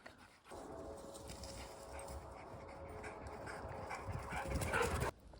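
A dog whimpers and pants softly outdoors at a remote property in Alaska, a faint, continuous breathy sound with rustling that swells slightly before cutting off abruptly.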